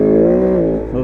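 A Kove 450 Rally motorcycle engine revs on an off-road ride, a loud close tonal drone that holds steady and then dips slightly in pitch near the end.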